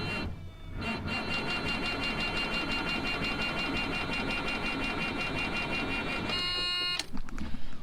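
A farm truck's engine cranks over and over without catching, a continuous whirring starter drone with a high electrical whine, ending in a sharper burst of sputtering near the close.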